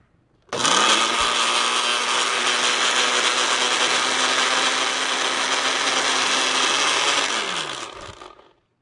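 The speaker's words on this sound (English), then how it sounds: "now I will turn on my blender and let that run for about 30 seconds" A kitchen blender runs for several seconds, whirring a citrus vinaigrette until smooth in one loud, steady roar with a sharp start and a gradual wind-down as it switches off.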